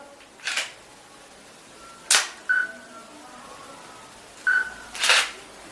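A mobile phone camera snaps photos, giving a few sharp, separate shutter clicks spaced over several seconds against a quiet room, with no talking.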